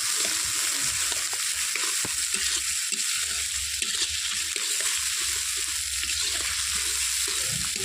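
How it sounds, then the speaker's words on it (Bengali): Chopped onions fry in hot oil for mutton curry, a steady, dense sizzle with occasional soft scrapes of stirring, close and continuous throughout. "পেঁয়াজ কুচিগুলোকে তেলের মধ্যে আমি হালকা ব্রাউন কালার করে ভেজে নেব"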